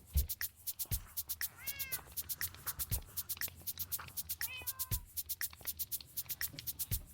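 Two short meows from a cat in a video game, each a quick rising-falling call, heard against steady rhythmic clicking and thumping, moderately close.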